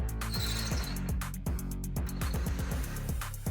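A power driver with a screw bit backing rusty screws out of an old wooden raised garden bed, its motor whirring in repeated short bursts with rising and falling pitch, close and loud, with no talk.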